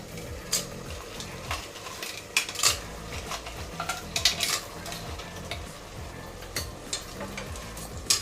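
Half a kilo of cleaned crab pieces stirred in a metal pan for crab biryani, with repeated scraping and clinking of a spoon against the pan over a steady low sizzle, close and continuous with no talk.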